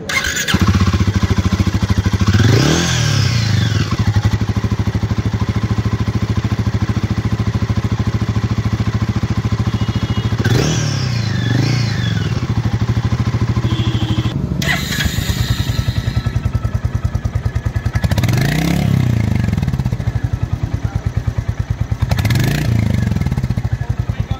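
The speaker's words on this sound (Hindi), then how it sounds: "एक बार जरा दोनों ही बाइक्स की एग्जॉस्ट नोट चेक करते हैं" A motorcycle engine idles with a throaty rumble, punctuated by several sharp revs that rise and fall, spaced a few seconds apart; a Royal Enfield Guerrilla 450 and Hunter 350 exhaust note comparison.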